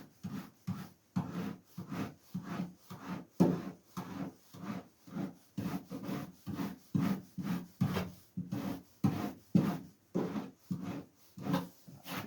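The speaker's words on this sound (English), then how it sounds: "So we can attack it with the rasp." Rasp filing tacky body filler on a Ford Escort MK1 car, a steady rhythm of rough scraping strokes, about two per second, close and clear with no talk.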